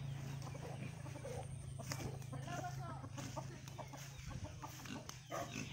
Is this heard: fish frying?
no